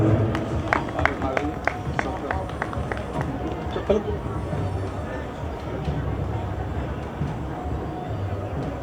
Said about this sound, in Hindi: जरा तालियां एक बार जोरदार हो जाएं।